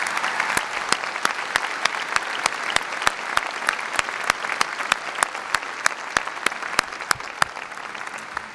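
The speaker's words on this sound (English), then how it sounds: "Please take a moment now to give all of them a round of applause and appreciation" Steady applause from a university commencement crowd at an undergraduate graduation ceremony, a dense even wash of clapping with regular sharp clicks running through it and no voices on top.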